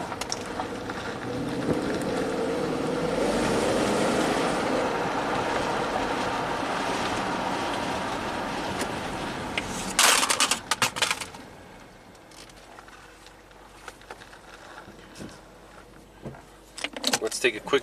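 A 2008 Range Rover V8 Supercharged on a test drive gives a steady road and engine roar that drops away after about ten seconds, leaving quieter cabin clicks and rattles.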